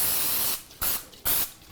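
Cooking spray hisses into a parchment-lined loaf pan being prepped for gluten-free chocolate chip pumpkin bread, in two short, close, sharp bursts separated by a brief pause.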